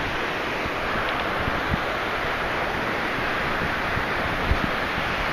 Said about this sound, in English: You can see the waves almost rush right up here to where we are.